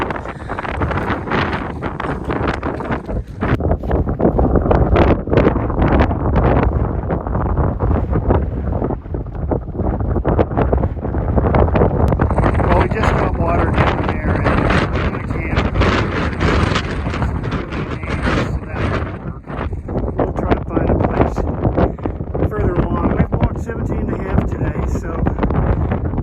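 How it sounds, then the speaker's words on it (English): Strong, relentless wind roars and buffets the microphone on a hiking trail along the Continental Divide Trail, a loud continuous rush that never lets up. "the wind's been relentless all day"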